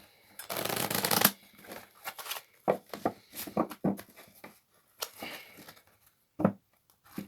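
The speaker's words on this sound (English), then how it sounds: "I'm going to finally pick some cards from my Spirit Oracle deck" A Spirit Oracle card deck being shuffled, with a dense burst of riffling at the start followed by a string of shorter, separate shuffles and card flicks, close and fairly quiet, with no voices.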